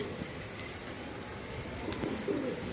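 Rural Rajshahi pigeons give soft, low coos near the end of a brief stretch, set against faint background hiss. The calls are quiet and some distance away, with no speech.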